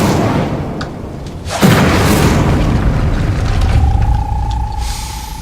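Incendio fire spell cast in Hogwarts Legacy, a loud booming burst of flame that erupts suddenly over a rushing magical background, followed by a thin sustained tone as the effect fades.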